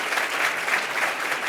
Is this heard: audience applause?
yes